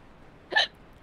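A single short hiccup, close and fairly loud, standing out from near silence.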